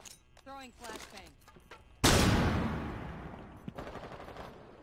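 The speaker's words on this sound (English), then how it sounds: "Gun is loud." Gunfire in the Rainbow Six Siege video game: a sudden loud blast with a long, fading, echoing tail, preceded by a person talking and followed by quieter game noise.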